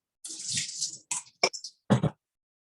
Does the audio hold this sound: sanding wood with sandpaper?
no